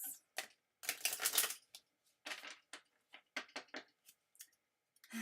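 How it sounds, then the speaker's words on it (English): Tarot cards being shuffled close up, a series of quick crisp riffling bursts with short pauses between them, fairly quiet and with no voices. "So we're going to go ahead and shuffle some cards."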